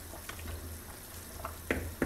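Chickpea soup with chicken bubbles in a pot on the stove for Tunisian chorba, a soft, close simmering hiss with small irregular pops and burbles.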